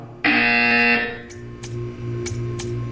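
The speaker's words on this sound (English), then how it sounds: "You will hear a buzzer." A buzzer in the video game Portal gives one loud, harsh electronic buzz lasting under a second, then fades into a low steady hum with a few faint ticks.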